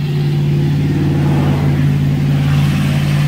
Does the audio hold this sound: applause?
no